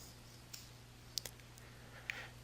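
Computer mouse clicks during bookkeeping software use, a few short, crisp clicks spaced apart over a quiet background hum.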